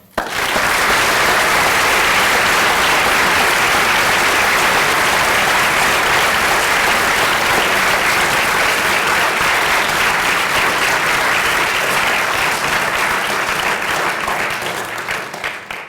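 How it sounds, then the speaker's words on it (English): A large crowd at the U.S. Army All-American Band selection ceremony claps steadily and loudly, a sustained wall of applause that keeps going before tapering slightly at the end. "Let's give a big round of applause for the U.S. Army."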